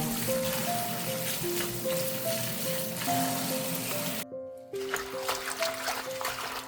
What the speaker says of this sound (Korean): 봄동을 물에 여러 번 헹궈주세요.